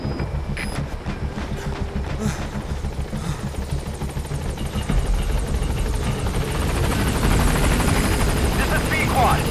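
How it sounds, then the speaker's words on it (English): A support helicopter in Metal Gear Solid V approaches a landing zone, its rotor thrum growing louder and more rapid as it nears, while radio voices talk over it. "Support helicopter has arrived."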